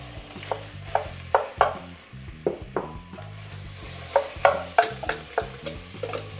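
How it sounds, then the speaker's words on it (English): Ground beef frying in a pot on a burner while a utensil stirs and scrapes it, sharp irregular clacks and scrapes over a soft sizzle, close up, with no talking. "all we're going to do is cook the ground beef till it's done"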